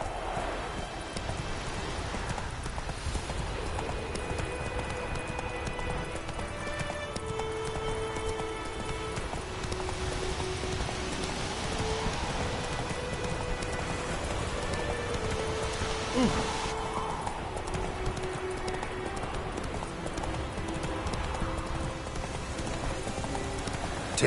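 Roach the horse gallops through rain in The Witcher 3, steady hoofbeats clip-clopping under a constant hiss of rainfall and ambient game music, with no pause in the patter.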